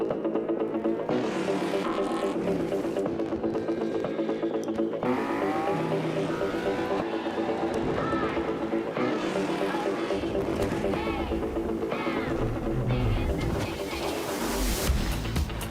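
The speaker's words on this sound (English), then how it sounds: "Racing game then, Codemaster, that's what they do, right?" Racing car engines in a Codemasters racing game: steady, loud engine drone with rising and falling revs as cars pass, and occasional tyre squeal.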